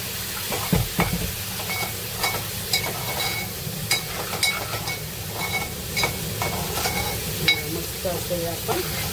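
Prawns with turmeric sizzling in a pan, a continuous close hiss broken by repeated scraping and stirring knocks, with a voice speaking faintly over it.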